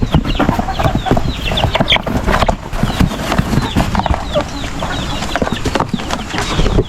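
Black Australorp chickens in a backyard farm make clucking and scratching noises amid busy handling sounds and thumps, fairly close and loud.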